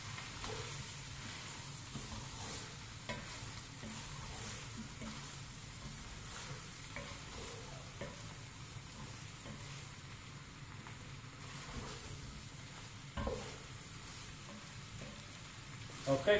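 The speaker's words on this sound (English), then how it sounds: "we've been dry roasting this for about 10 minutes or so now" Keema mince dry roasting in a pan with a little added oil, giving a steady, close sizzle with soft stirring scrapes throughout and a brief louder clatter near the end.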